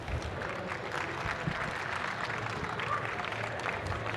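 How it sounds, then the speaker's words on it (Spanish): Applause from a conference audience at a developers' event, steady dense clapping filling the whole stretch at moderate level, with faint crowd murmur mixed in. "Un fuerte aplauso, por favor."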